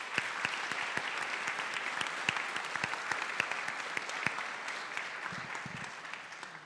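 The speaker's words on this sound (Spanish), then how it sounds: "Démosle un fuerte aplauso, por favor." A forum audience gives sustained applause, moderately distant, with a few sharper individual claps standing out over an even wash that tapers slightly at the end.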